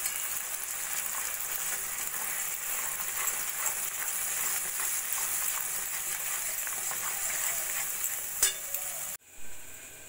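Spice masala of salt, turmeric, cumin, chili and Kashmiri chili powder fries in a pan for paneer masala, a continuous close hissing sizzle that stays even, then cuts off abruptly near the end.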